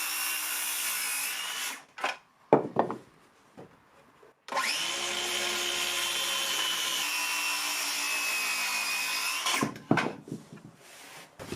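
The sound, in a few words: cutting wooden ceiling joists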